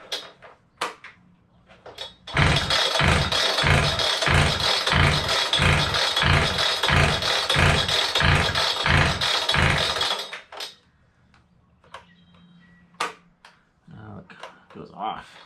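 Hilti DSH700 cut-off saw, fitted with a new carburetor, fires up and runs for about eight seconds with a loud, pulsing two-stroke roar before cutting out. Brief clatter and handling noises come before and after.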